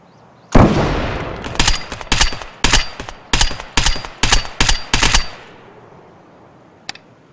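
Gunfire aimed at an enemy player in Escape from Tarkov, on the Woods map: a loud opening shot, then about nine sharp, evenly spaced shots with short echoing tails, then quiet and one faint distant pop.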